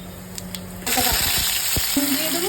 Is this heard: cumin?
yes